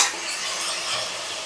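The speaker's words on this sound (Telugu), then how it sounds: "పసుపు బాగా వేయించుకోవాలి, ఎర్రగా వేగాలి" Curry leaf chicken frying in hot oil with turmeric, a brief, soft, even sizzle and hiss heard up close with no other sounds.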